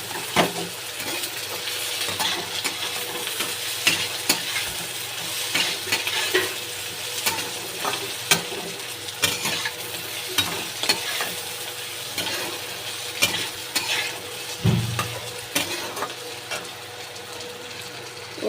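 Tomato and green chili fry in a pan for a fish-head chorchori dish, a steady sizzle under repeated scraping and stirring of a spoon against the pan, close and continuous with no talk.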